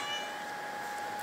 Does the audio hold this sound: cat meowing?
yes